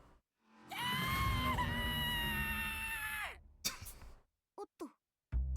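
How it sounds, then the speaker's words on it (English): An ear-splitting scream from a video game character, loud and sustained for a few seconds with a wavering pitch, followed by short gasping sounds and brief breaths. "No longer able to control myself, I let out an ear-splitting scream."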